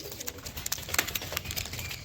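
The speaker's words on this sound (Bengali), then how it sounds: "দারুণ স্ট্যান্ডিং পায়রাগুলো" Fulsira Madras pigeons in a loft give faint, soft cooing, with light rustles and scattered clicks around them.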